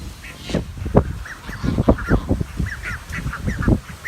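Several ducks quack and honk repeatedly in a busy, overlapping chatter, fairly close, with low rustling underneath.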